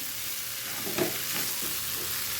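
Corn masala frying in a pan over a high gas flame, a steady close hiss of sizzling with a couple of soft stirring scrapes near the middle.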